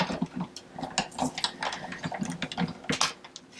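A hand-cranked die-cutting machine rolls a die and cutting pad through for a floral paper treat holder, giving a rapid run of clicking, ratcheting mechanical taps for a few seconds.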